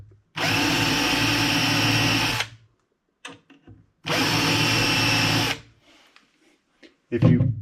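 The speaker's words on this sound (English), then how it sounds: "Now pre-drilling these does make sense." A power drill whirs steadily, pre-drilling wood during bathroom vanity door installation, in two long bursts of about two seconds each, with light knocks and handling noises between them.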